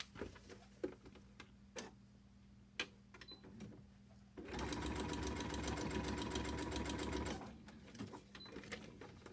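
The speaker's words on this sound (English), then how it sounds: "I'm going to sew along the A3 line" A sewing machine stitches along a line on a paper-pieced fabric heart block. A few scattered clicks come first, then a steady, rapid run of stitching lasts about three seconds and stops.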